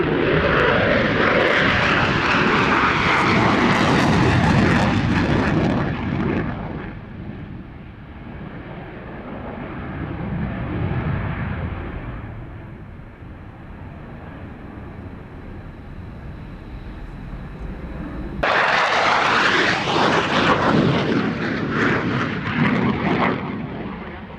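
A Belgian F-16 fighter jet performs a flying display at an air show, its engine roaring loudly in a sweeping pass, easing to a distant rumble, then surging back with a sudden loud burst of thrust.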